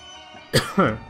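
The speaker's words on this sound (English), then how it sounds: "Sorry for that cough" Two quick, harsh coughs close to the microphone, the second slightly longer, following a brief quiet moment.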